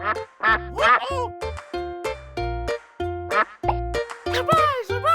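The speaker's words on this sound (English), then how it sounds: "Duck!" A cartoon duck quacks in a series of loud, rhythmic nasal bursts, repeated about eight times over a bouncy children's tune.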